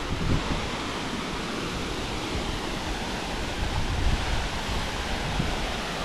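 A waterfall on the living root bridge trek in Meghalaya roars steadily, a dense, unbroken wash of rushing water that stays loud and even throughout with no voices.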